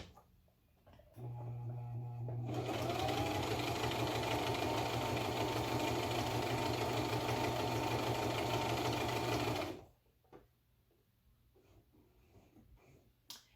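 Sewing machine stitching along one side of a button on a cooling collar, a steady loud mechanical whir running for about seven seconds and then stopping, with quieter handling before and after.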